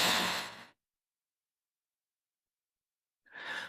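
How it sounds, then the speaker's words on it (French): A deep breath out through the mouth during a hatha yoga session, one soft close sigh, then silence, then the start of another breath. "Profonde expire."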